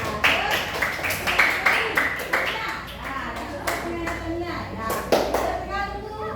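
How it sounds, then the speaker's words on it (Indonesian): Group clapping in a classroom for a student team, a brisk cluster of close claps with children's voices mixed in and some thumps in the room, continuing unevenly throughout. "Beri tepuk tangan buat grup Nur Hendra."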